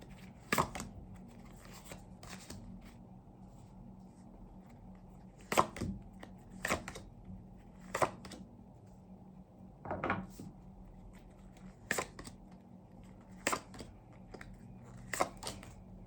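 Sharp, dry tarot card snaps and slaps from shuffling and drawing at irregular intervals, several crisp bursts spread over a quiet room background with no talking.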